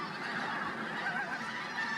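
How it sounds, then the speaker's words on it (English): A flock of pink-footed geese honks on a winter marsh, a continuous overlapping chorus of nasal calls at moderate distance with no other sounds. "Largest of all the wildfowl to make Deepdale their winter home are pink-footed geese."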